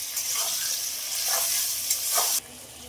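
Fried taro and potato being stirred in a pan after salt, turmeric and tomato go in, giving a continuous sizzling hiss with a few soft scraping strokes, close and fairly loud, ending abruptly.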